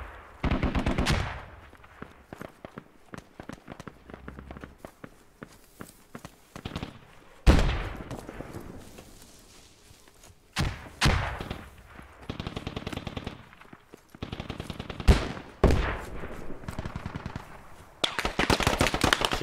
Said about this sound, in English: Shots fired west, squad 3.